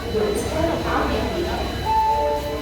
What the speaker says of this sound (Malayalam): ഇതാണ് എക്സ്പ്രസ് ആണ് എറണാകുളം എക്സ്പ്രസ് ആണ്